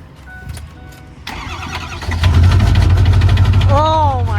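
Diesel burnout truck engine cranking and catching after a turbo swap, then running loud and rough with a harsh, uneven idle; a voice is heard as it starts.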